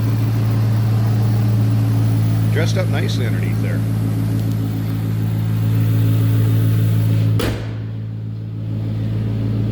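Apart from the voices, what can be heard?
2008 Ford Mustang Roush 427R supercharged engine running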